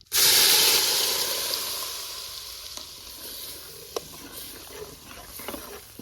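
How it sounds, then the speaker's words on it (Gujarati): Dal hits a hot spice tempering with a loud rushing hiss that bursts at once and slowly fades into a softer bubbling sizzle with scattered small pops, heard close and alone. "આપણે દાળ વઘારમાં નાખી દઈશું."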